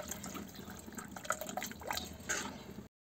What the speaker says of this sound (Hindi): ये जो पानी जिसमें गहत भिगोए थे इसमें डालेंगे